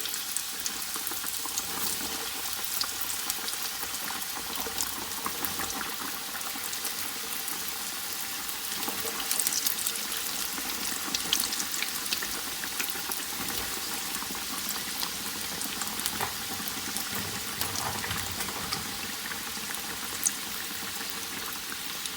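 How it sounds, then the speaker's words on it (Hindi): Samosas deep-frying in hot oil in a kadai produce a steady, dense bubbling sizzle that runs unbroken and close for over twenty seconds, with nobody speaking. "अब हम लोग कढ़ाई में समोसा डाल देंगे और इनको फ्राई करेंगे।"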